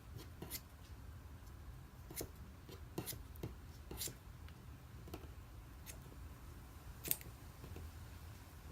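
Scissors snip through rope strands during a splice, a series of faint, sharp isolated clicks spaced irregularly over a quiet background, with no talking.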